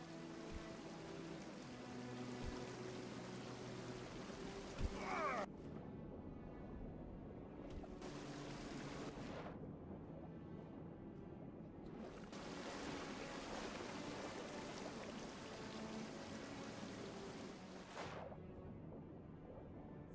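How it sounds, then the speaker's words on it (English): A waterfall in the video game Tainted Grail: Fall of Avalon gives a steady, rushing wash of falling water that fills the scene continuously, dropping away briefly a few times, with no speech. "Behind the fucking waterfall, of course."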